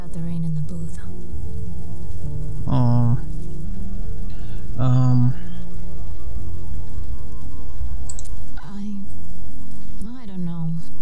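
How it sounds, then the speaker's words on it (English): Steady rain patters continuously in the video game Road 96, with a few short voiced sounds breaking through over the downpour. "Come on, let's wait out the rain in the booth."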